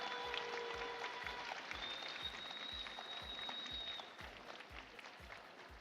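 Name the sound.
audience applause at boxing final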